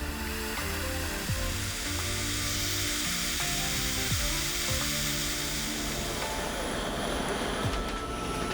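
A red-hot steel cutter, made for a watchmaker's faceplate on a Sherline lathe, hisses and sizzles steadily as it is quenched, a continuous broad seething close by with faint tonal hum beneath.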